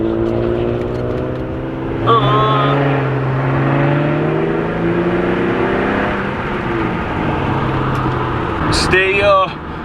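A retuned Infiniti G37 sedan engine hums and rises in pitch as it revs, with people talking over it and a couple of sharp high squeaks.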